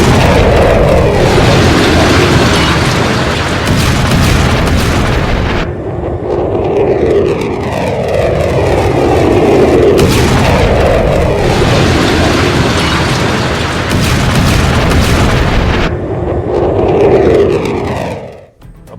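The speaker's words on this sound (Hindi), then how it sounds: "ये देखिए जरा मिसाइल दागी है मिसाइल सेंटर पर" Missile strike explosions on a missile center on the Hormuz coast during the Iran–Israel war: loud, heavy blasts with a continuous roaring rumble and repeated booming surges, no voices.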